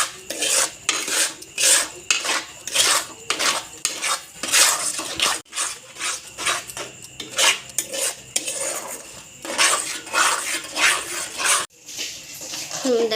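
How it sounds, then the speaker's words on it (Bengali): A jackfruit seed sweet with milk and sugar being stirred in a pot, rhythmic metallic scraping strokes repeating roughly twice a second, close and loud, with a short pause midway. "আবারও এটাকে নাড়িয়ে নেব।"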